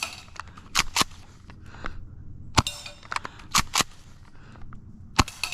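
Airsoft shotgun firing BBs at a target: several sharp, loud cracking shots spaced irregularly, each a short bright burst with quieter rattling and clicking of the gun between them, no talking.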